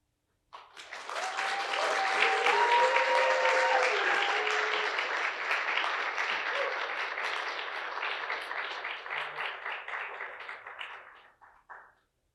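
A large audience at a showcase event breaks into sustained applause that swells quickly and holds for about ten seconds, with a few cheers and whoops, then tapers off into scattered claps.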